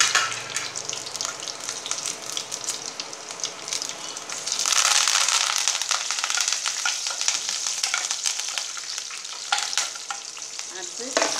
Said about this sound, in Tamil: அதுக்கப்புறம் சில்லி போட்டு இப்போ கருவேப்பிலை போட்டு